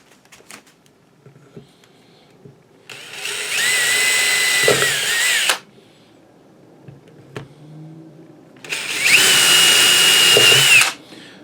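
An electric drill with an extended bit whirs in two long bursts of a few seconds each, loud and close, with brief quiet handling noises between them.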